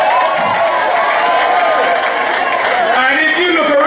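A large outdoor political celebration rally crowd of about 15,000 people in Layou, loud and continuous, a dense wash of cheering and voices throughout.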